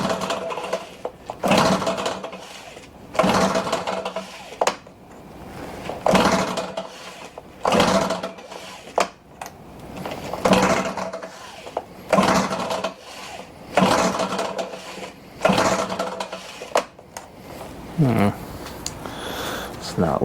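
A Stihl BR600 backpack leaf blower with a bad cylinder runs roughly, its engine surging and sputtering in an uneven, repeated rhythm up close, with people talking over it.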